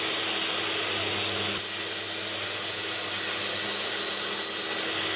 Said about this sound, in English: So I'm just going to cut a slice out on the table saw